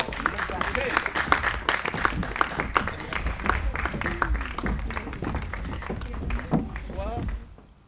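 An audience at a Miss OD'AS pageant episode breaks into steady, dense applause with scattered shouts, fairly distant and continuous, before fading out abruptly at the end while voices talk over it.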